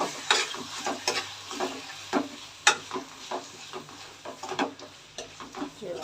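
Liver curry being stirred in a pan, with repeated scraping and clinking strokes over a soft background sizzle, close and moderately quiet in an irregular rhythm.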